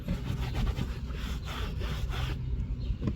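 A microfiber cloth wipes along a car's interior seam, producing a close, steady rubbing and scrubbing sound with rhythmic back-and-forth strokes over about three seconds.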